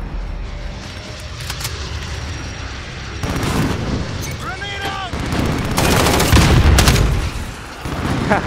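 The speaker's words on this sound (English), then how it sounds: "Grenade out!" Gunfire and a grenade blast in the Modern Warfare video game: rapid bursts of shots and booms, denser and louder toward the end, with brief voice callouts mixed in.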